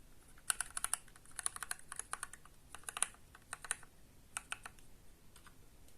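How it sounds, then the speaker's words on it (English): Typing on a custom mechanical keyboard with lubed switches: quiet, crisp keystrokes in irregular clusters and short pauses, close up and alone with no voices. "And here's my first custom keyboard."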